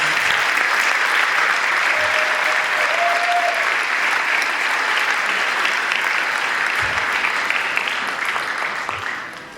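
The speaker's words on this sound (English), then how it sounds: "So can we just give a round of applause for Pierce Officer?" Sustained, loud applause from the audience at an awards ceremony, a thick continuous wall of clapping with a few faint cheers that tapers off only at the very end.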